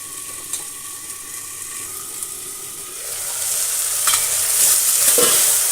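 Brinjal (eggplant) palya fries and gets stirred in a pan, a steady sizzle with scraping stir strokes that grows louder and brighter in the second half, with no voices.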